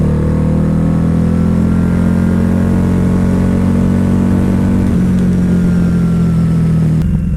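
A Harley-Davidson Night Rod Special cruiser motorcycle accelerates on a test ride with a loud, close, sustained engine drone whose pitch holds and slowly shifts, ending with a brief change in tone.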